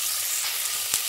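Onions frying and being stirred for biryani in a home kitchen, a steady close sizzle with a brief louder scrape near the end, no talking.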